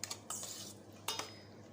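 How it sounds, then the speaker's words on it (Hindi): Chicken marinated for biryani is stirred and mixed with ground garam masala, giving a few short scraping clinks of a spoon against a bowl, close and fairly quiet, with no talking. "अब इसको जो है हम अच्छी तरह से इसको मिक्स कर लेंगे।"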